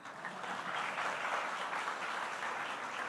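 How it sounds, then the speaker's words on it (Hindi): Audience at a Hindi poetry stage event applauding together, a steady, even wash of clapping from a large crowd that holds at moderate loudness throughout. "एक ताली बजे तो सब बजा दे रहे हैं।"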